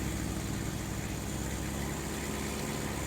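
A 2013 BMW E92 M3 with a Valvetronic exhaust idles while warming up, a steady, even low rumble that holds unchanged throughout with no revving.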